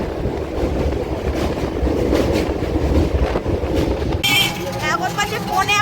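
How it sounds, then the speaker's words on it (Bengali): A train rolls into Hooghly Ghat station just after crossing the Ganges bridge, a loud continuous rumble and clatter of wheels that shifts near the end to screeching, squealing brakes. "হুগলিঘাট ঢুকছে ট্রেন এখন।"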